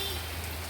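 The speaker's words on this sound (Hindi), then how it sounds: "बारिश बहुत ज़ोरदार हो रही है" Heavy rain pours down steadily as a dense, continuous hiss of drops on surfaces, fairly loud and unbroken, with a low hum running beneath.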